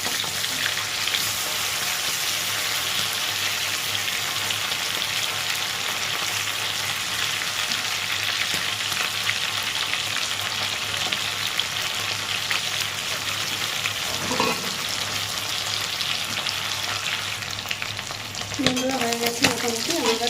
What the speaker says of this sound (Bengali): চিংড়ি মাছ বেশি ভাজলে শক্ত হয়ে যায় তো হালকা ভাজবো একবারে সব দিচ্ছি না দুবারে ভেজে তুলব